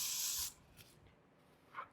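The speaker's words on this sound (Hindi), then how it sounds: "hold spray" Hold hairspray sprays onto hair in one strong, close hiss lasting about half a second, followed by a few faint handling sounds and a brief soft rustle near the end.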